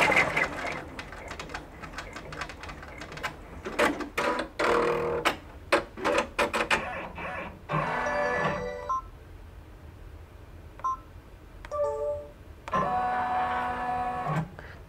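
A sewing machine finishes a satin stitch around an appliqué design, giving quiet bursts of rapid mechanical whirring and clicking separated by short pauses.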